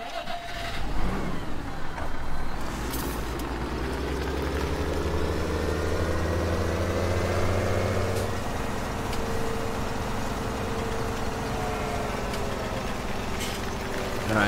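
A tractor engine in the video game Farming Simulator 17 drones steadily, with a low hum that rises and falls in pitch as it revs, alone and moderately loud throughout.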